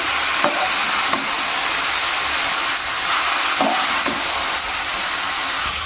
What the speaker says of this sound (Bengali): মশলার সঙ্গে সবজিগুলোকে খুব ভালো করে মিশিয়ে নেব